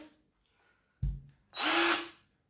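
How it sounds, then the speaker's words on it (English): A Parkside cordless hammer drill powered by a 20V 8Ah smart battery whirs up in one loud burst of about half a second, preceded by a short low clunk, with quiet pauses around it. "Now let's connect this cordless hammer drill."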